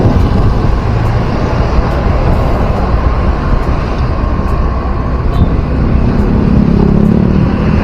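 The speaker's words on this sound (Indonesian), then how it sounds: "semakin siang semakin ramai kendaraan, terutama yang menuju arah ke Bukit Tinggi" Steady, dense road traffic streams past below a toll flyover on the Padang–Bukittinggi road during Lebaran, cars and motorcycles blending into a continuous loud rumble with no talk.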